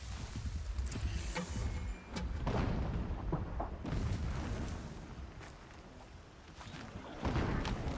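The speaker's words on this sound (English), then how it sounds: "Explosions in the distance." Distant explosions rumble through the Horizon Zero Dawn game world, a steady series of low booms and thuds under continuous ambient noise, with no talking.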